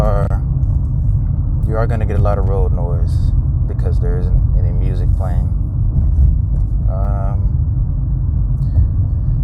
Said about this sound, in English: so of course you're gonna get all the road noise.